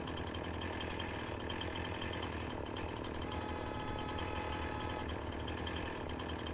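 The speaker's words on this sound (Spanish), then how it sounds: "Ahora alinea la motosierra en vertical y corta un trozo pequeño de 1 metro." A chainsaw cuts wood in the video game Farming Simulator 19, with a steady, dense motor drone running unbroken throughout, loud and constant without pauses.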